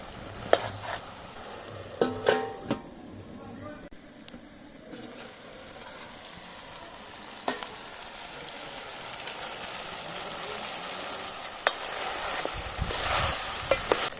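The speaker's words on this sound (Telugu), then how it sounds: "ఇట్లనే నూనెలో ఒక పది నిమిషాలు కూరని గోలించుకుందాం" Farm chicken curry frying in oil while being stirred in a pan, a soft steady sizzle with occasional scraping stir clicks, close and alone without talk.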